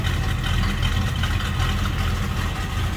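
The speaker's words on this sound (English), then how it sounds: "a little cam in that 350. Nice rumble to it" A 1967 Chevrolet C10 truck's mildly cammed 350 V8 idles with a steady, low rumble continuously, close and fairly loud, with no voices.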